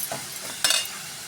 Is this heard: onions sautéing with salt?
yes